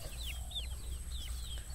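Pet chickens at feeding time give faint, scattered high clucks and peeps, several short calls in a loose irregular rhythm over a low rumbling background, with no voices.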